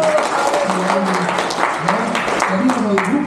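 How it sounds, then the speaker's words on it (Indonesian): Applause from a church congregation during a Sunday sermon, a busy patter of clapping mixed with overlapping voices and a loud nearby speaker talking over it. "Berikan tepuk tangan."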